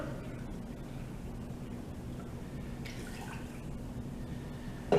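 Water poured into a rice cooker pot of rice, a steady soft splashing trickle running continuously at close range with no talk.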